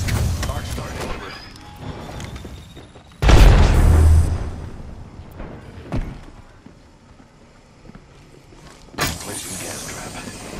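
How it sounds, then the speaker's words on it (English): Thermite grenade tossed in the Apex Legends shooter, landing as a sudden loud burst with a low rumbling roar that fades over about a second, amid busy game noise and a couple of later sharp impacts. "Tossing thermite."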